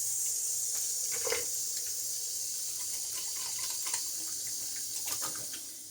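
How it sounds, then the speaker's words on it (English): Tap water runs steadily into a bathroom sink with a continuous hiss, a few splashes breaking through as water is splashed onto a face, close and alone. "Splash some water on my face."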